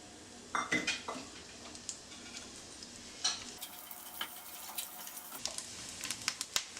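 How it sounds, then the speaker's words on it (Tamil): Soft steady sizzling of cashews frying in ghee in a pan, with clinks and scrapes of a spoon stirring, close by, with a louder hiss rising midway. "இப்போ நம்ம வந்து முந்திரி பருப்பு வறுத்து போட்டுருவோம்."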